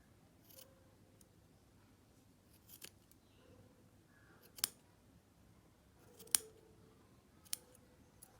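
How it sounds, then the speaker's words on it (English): Small scissors snip the tassel threads of a crocheted evil-eye wall hanging in several separate, sharp clicks spaced across a quiet background, with a few sounding louder and closer than the rest. "Cut the ends of these tassel threads evenly so that it will look good."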